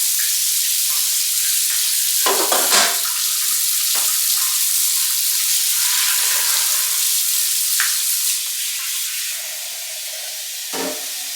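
Water runs steadily from a tap into a pot for cooking chickpeas, a continuous loud hiss with a few splashes and clanks as the pot fills.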